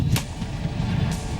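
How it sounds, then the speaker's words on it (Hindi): An M-777 howitzer fired by American soldiers: two sharp, loud blasts about a second apart over a heavy, continuous low rumble, with no voices. "आपके टीवी स्क्रीन पर इस वक्त अमेरिकी सैनिक जिस तोप की ताकत की जोर आजमाइश कर रहे हैं"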